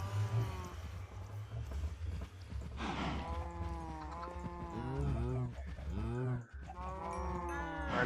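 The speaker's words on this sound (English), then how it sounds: "Our cattle seem to be really happy." Cattle low in a blocky farming video game, several drawn-out moos overlapping one another at close range against a low background hum.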